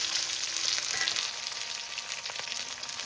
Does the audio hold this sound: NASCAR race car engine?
no